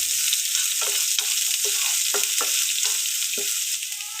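Green chillies sizzle in a hot pan with a steady frying hiss, broken by a series of soft scraping strokes as they are stirred, close and alone without talk.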